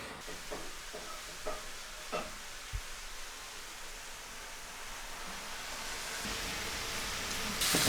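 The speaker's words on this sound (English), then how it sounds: "I'm going to dry fry these" Wild mushrooms dry-fry in a pan with no oil, giving a soft, steady sizzle and hiss that builds toward the end, with a few light clicks from stirring.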